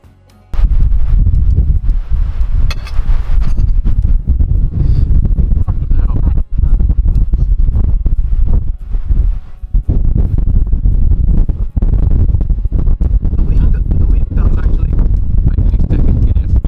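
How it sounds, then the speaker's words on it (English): Strong outdoor wind buffets the microphone in heavy, low rumbling gusts that rarely ease, with sharp crackles and thumps mixed in. "Probably about 12 degrees now and quite windy"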